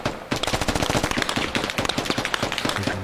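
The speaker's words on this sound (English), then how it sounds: "we're taking fire from somewhere" Rapid bursts of automatic gunfire in the tactical shooter game Squad, loud and close, with dense sharp cracks following one another almost without a break and no talk.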